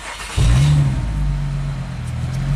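A Mazda 6 with a transmission fault stuck in third gear starts up in a shop, its engine catching abruptly and settling into a loud, steady low idle hum close by.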